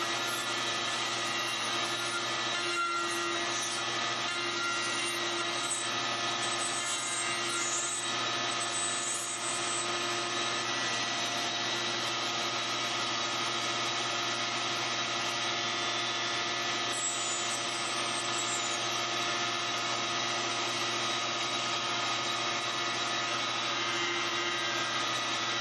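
A router bit cuts a partial end slat in a wood piece for a rustic dovetail bench. The machine gives a steady, loud whine that holds at an even level throughout, with no talking.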